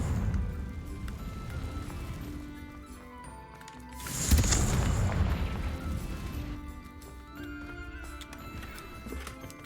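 A Confringo spell goes off in Hogwarts Legacy with a loud booming explosion midway that rumbles and fades, set against a steady game soundscape with no talking.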